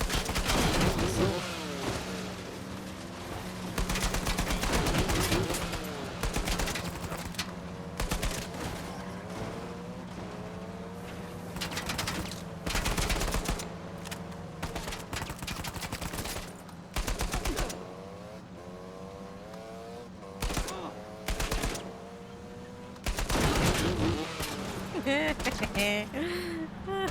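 Uncharted 4 gameplay carries repeated loud bursts of gunfire and rapid fusillades spread across the stretch, separated by quieter game ambience.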